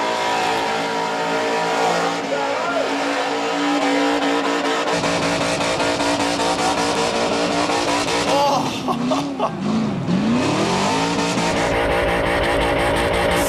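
A car doing a burnout skid at Summernats, its engine revving hard and steady throughout with tyre squeal, a loud, continuous roar that rises and dips in pitch near the middle.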